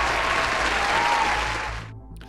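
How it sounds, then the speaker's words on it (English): A studio audience breaks into a full round of applause, a thick, continuous wash of clapping that holds steady and then cuts off abruptly near the end, followed by quiet. "Give him a round of applause."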